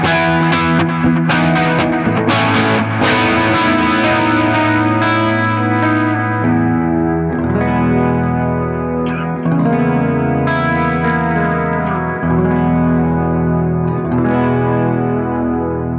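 Electric guitar played through a TC Electronic Plethora X5 multi-effects pedal, a dense, sustained processed tone with chorus, echo and some grit, chords ringing continuously for the whole stretch with no talking.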